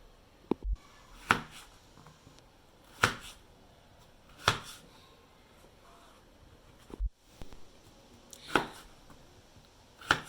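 A knife cuts washed potatoes into thick wedges on a board, giving about seven sharp, separate chops spaced irregularly, each one crisp and close with quiet pauses between and no talking.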